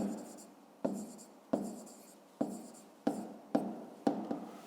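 A pen scratches steadily on paper while someone writes out a fifth-grade maths exercise. Seven short strokes repeat in a regular rhythm, close and clear, with no talk over them.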